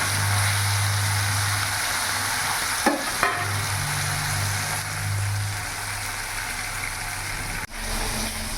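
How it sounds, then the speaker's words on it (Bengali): Pieces of silver carp fry in hot oil, giving a steady sizzling hiss throughout with a low hum beneath and a few brief clicks and knocks from the pan. "এখানে তেল গরম হয়ে গেছে আমি এবার এক এক করে মাছগুলো ছেড়ে দেবো"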